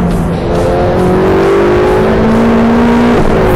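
Ferrari 488 Pista sports car engine at full power on a track, a loud, close, steady high-revving roar with rising tones throughout, briefly dipping near the end.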